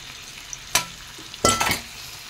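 River rita fish hits a pan of hot mustard oil in two short sizzling bursts, a quick splash followed by a slightly longer crackle, close and fairly faint against a quiet background.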